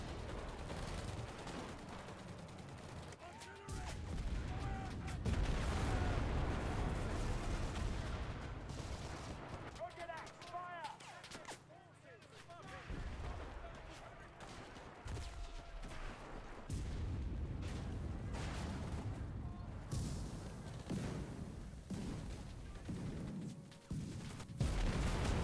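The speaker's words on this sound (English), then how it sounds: "I'm gonna actually try and make use of the artillery smoke barrage" Artillery fire in the WWII shooter Enlisted booms and rattles in repeated volleys and bursts over about 25 seconds, close and loud, with a player's voice occasionally speaking over the barrage.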